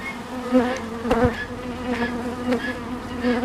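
Honeybees buzz in a dense, continuous drone at close range at the hive, rising and falling slightly as they move about.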